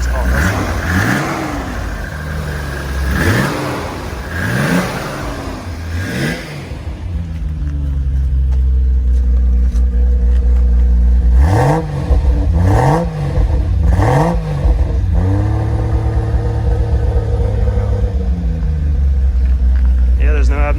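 A Nissan Skyline R34 GT-R with a 2.8-litre engine and a huge single turbo, revved up several times in close, loud bursts that rise and fall, then held at a steadier high drone, with a voice speaking briefly.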